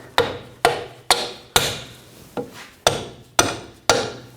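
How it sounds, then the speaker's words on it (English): Hammer tapping a bolt through the rear shock absorber mount of a 2000-2006 BMW X5, about eight sharp metallic strikes in a steady rhythm, close and loud with quick decays and no talking. "And just tap it in."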